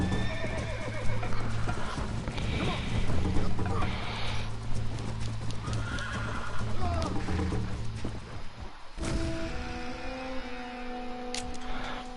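Horse in Red Dead Redemption neighing and whinnying over steady clip-clopping hooves, with a voice talking throughout and a sharp break near the end.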